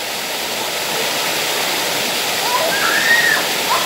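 River water rushes steadily in a continuous broadband wash, close and fairly loud, with a faint bird-like whistle near the end and no talking.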